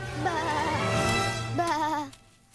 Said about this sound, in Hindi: वो मेरी भेड़ें हैं